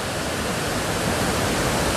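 Thotikallu Falls near Bangalore pours as a dense, even roar of falling water, broadband and unbroken throughout, with no voices.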